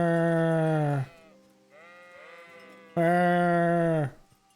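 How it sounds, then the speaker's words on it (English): Sheep bleating in the video game Kingdom Come: Deliverance, two loud, close, drawn-out bleats about a second each separated by a quieter wavering call, with no talk over them. "I just feel like sheep just sound like meh"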